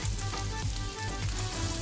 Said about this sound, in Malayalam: സവാള സ്ലൈസ് ചെയ്ത് വെച്ചേക്കുന്നത് ഇട്ട് കൊടുക്കാം